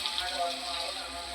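Pasta sizzles as it is stirred in hot oil in a pan for a spiced milk pasta, a steady close frying hiss that ends in a sharp scrape or clink.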